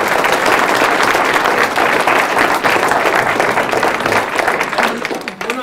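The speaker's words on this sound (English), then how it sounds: "we probably ought to give Dr. Jones a round of applause as he's retiring this year" Audience applause for a retiring professor at a lecture: dense, steady clapping from a room full of people, loud and sustained, tapering slightly near the end.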